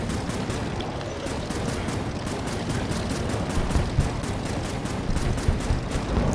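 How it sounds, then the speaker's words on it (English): Rapid enemy gunfire in the Air Wars 3 aerial combat game, dense rattling bursts over a constant rumbling engine drone, loud and sustained throughout. "I have to be careful they don't shoot me, or I can avoid those shots."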